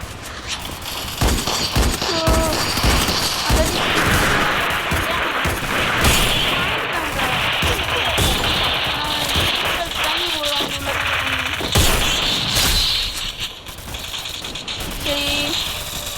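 Rapid gunfire during shooting and headshot training in a video game crackles in dense, repeated bursts, with mechanical clicks, while a player talks over the shots throughout.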